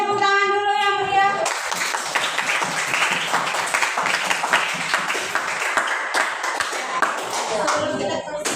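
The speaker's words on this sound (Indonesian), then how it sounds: "Sekali lagi beri tepuk tangan dulu yang meriah" Lively clapping from a group of participants in a classroom-style session, bursting in right after a voice and continuing as a busy, close patter of hands, with some chatter mixed underneath.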